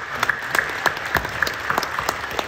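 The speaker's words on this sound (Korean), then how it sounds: "격려하며 박수 한번 해주시겠습니다" Church congregation clapping in encouragement during a worship service, a short burst of steady applause with distinct sharp claps rising above a softer spread of clapping.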